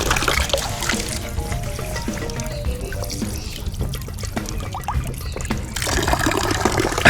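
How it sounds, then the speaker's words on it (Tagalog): Water from a public drinking fountain at Castello Sforzesco in Milan, a close, strong trickling and splashing stream that runs continuously, gurgling and dribbling as it spills, with no talk. "So this one guys, it's a drinking fountain."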